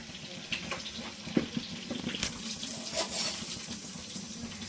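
Water runs and splashes into a small bowl of ground cumin and chili powder, a continuous close trickle with a few light knocks of the container, no voices.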